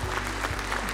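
At a televised young preachers' final stage event, an audience claps briefly for the woman religious teacher being introduced, a short, dense burst of applause with low rumble beneath it.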